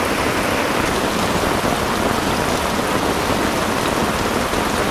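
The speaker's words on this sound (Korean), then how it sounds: "와 근데 비 진짜 많이 와요" Heavy rain pours steadily over a tent in a pine forest during solo camping, forming a dense, unbroken hiss of drops close by with no let-up.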